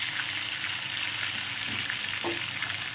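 Spice paste for kali paneer frying in hot oil, a steady close sizzle and crackle throughout with a faint utensil knock near the end.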